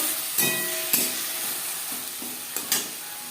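Onions frying in a pan with fish oil and tomato paste, a steady soft sizzle punctuated by several sharp scraping stirs of a spatula at irregular intervals, close and moderately quiet with no voices.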